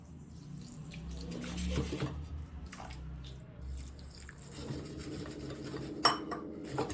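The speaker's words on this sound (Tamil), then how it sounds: "நனைகிற அளவுக்கு தண்ணி ஊற்றினா போதும்." Water trickles and pours onto sugar in a pan amid soft clinks of metal utensils, quiet and close.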